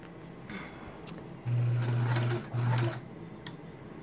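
A sewing machine binds a quilt in two short bursts of stitching, the first about a second long and the second shorter, close and clear against a quiet room.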